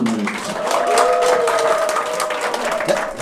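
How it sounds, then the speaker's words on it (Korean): Audience applause welcoming a KBS HR research institute director onto a lecture stage, steady dense clapping from a crowd that holds for the full few seconds at a fairly loud level. "뜨거운 박수 보내주십시오."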